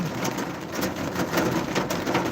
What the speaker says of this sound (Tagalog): Napakalakas ng ulan, ngayon po ay napakadilim.